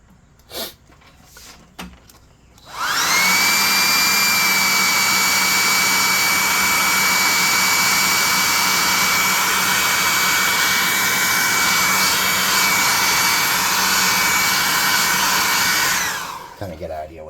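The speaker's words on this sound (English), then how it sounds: "I'm going to hit him with the hot air gun again" A hot air gun blasts steadily on a painted miniature model, starting abruptly after a few faint handling clicks, then holding a loud, close, even rushing whine for about thirteen seconds before cutting off.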